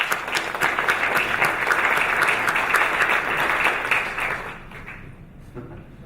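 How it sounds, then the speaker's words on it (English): An audience at a CEO forum breaks into sustained applause for a colleague, with dense clapping that holds steady before tapering off near the end. "give a round of applause for Anya"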